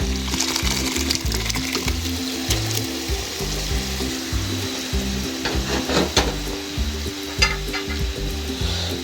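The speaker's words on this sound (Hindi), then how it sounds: "चने शामिल करने के बाद इसको हिलाएंगे" Chickpeas tossed into fried masala in a karahi and stirred, giving a steady sizzle with scraping spoon strokes against the pan over a repeating background music bed.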